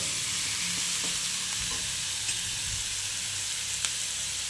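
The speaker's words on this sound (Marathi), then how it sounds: "आपले कांदे छान ब्राउन झाले, आपण आता यात आपले टोमॅटो ॲड करूया।" Tomatoes land in a pan of browned onions for paneer masala, sending up a bright, steady sizzle with faint scraping and a few light taps of the spoon.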